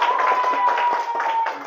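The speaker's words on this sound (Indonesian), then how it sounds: "Beri tepuk tangan untuk kelompok 3." A class of schoolchildren claps for a group of classmates, a short, fairly close burst of hand clapping with a faint steady tone running underneath.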